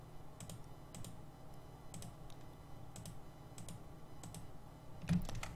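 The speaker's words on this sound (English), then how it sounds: "Control left click all the way until it covers the entire eye area." Keyboard and mouse clicks while editing in Blender: sparse, light taps landing roughly once a second, with a slightly louder click near the end, all over a soft steady room hiss.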